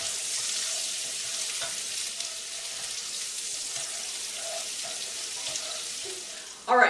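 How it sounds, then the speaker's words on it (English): Red and green peppers frying in hot bacon grease, a steady close hiss and crackle throughout with a brief louder scrape at the end. "the next thing I'm going to do is add to the hot grease my peppers, red and green"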